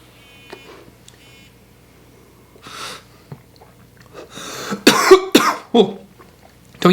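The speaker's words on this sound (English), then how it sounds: "Don't usually cough" Someone exhales vapor from an Ambit by Vivant vaporizer, then coughs, a few faint breaths and soft high beeps followed by a burst of loud, raspy coughs and throat clearing close to the microphone.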